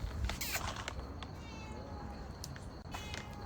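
A domestic cat meows at its regular feeding time, giving a couple of short rising calls at middle distance over a quiet room background.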